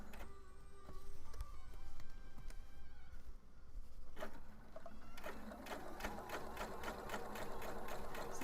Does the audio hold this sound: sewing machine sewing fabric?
yes